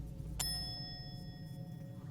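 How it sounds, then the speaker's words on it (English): A single bell strike at the door of the Allegheny Asylum in Fallout 76, a bright ring at the start that fades over about a second against a low ambient hum. "Let's ring the bell."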